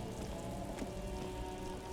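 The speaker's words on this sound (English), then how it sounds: "Stuck in the rain in a traffic jam, man." Rain patters down during a traffic jam in the video game Disco Elysium, a faint, steady hiss of drops on surfaces with a low background hum.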